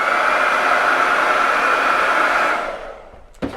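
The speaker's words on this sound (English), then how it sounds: "we're going to dry it again." Hair dryer blowing on a home holiday window display, a loud steady whoosh that runs alone for about two and a half seconds before winding down and switching off with a click.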